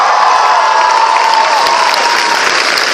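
Studio audience applause with cheering at a chat-show interview, a dense continuous clatter of clapping from a large crowd, steady and loud throughout with scattered whoops.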